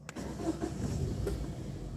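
A car engine cranking and catching after the clutch is pressed, a rough mid-level rumble that settles into a steady idle, heard from inside the car with no talk.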